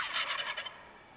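Turkey gobble, a single quick rattling burst of warbling notes lasting under a second, faint and fairly close, with nothing else heard.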